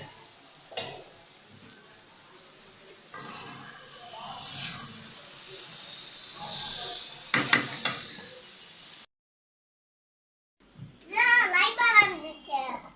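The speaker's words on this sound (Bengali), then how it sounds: "এটা আরও একটু ভাজা ভাজা করবো, লাল লাল করব" Food sizzling in a frying pan as it browns, a steady loud hiss with occasional stirring scrapes for about nine seconds, then silence and a short burst of a person's voice.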